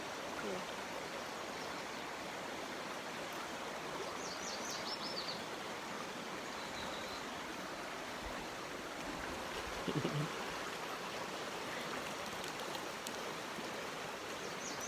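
A river in Blacksmith Fork Canyon, Utah rushes in a steady, soft wash of flowing water, constant and unbroken, with a few faint chirps high above it.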